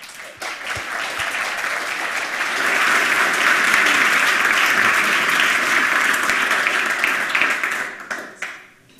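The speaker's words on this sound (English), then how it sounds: "Please give him a round of applause" Audience applause at a hacker conference talk on trackerless BitTorrent, loud and dense clapping that builds, holds steady, then thins into scattered claps at the end.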